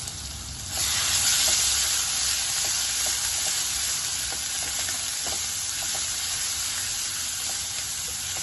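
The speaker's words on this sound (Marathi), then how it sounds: "पेस्ट आपण तेलामध्ये फ्राय करून घ्यायची आहे" Ginger-onion paste frying in hot oil with bay leaf and hing for palak paneer, a loud steady sizzle that jumps up as the paste goes in and then holds evenly, close and alone.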